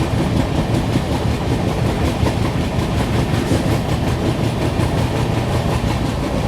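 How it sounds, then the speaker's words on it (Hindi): The Howrah Rajdhani express thunders past a railway crossing close by, loud and continuous, its wheels keeping up a steady clickety-clack rumble throughout with no voices. "सामने से आ रही है हावड़ा राजधानी।"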